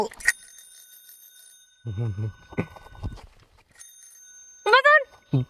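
A bicycle bell rings sharply near the start of a scene from a Bangla comedy drama, its metallic tone lingering as people talk over it.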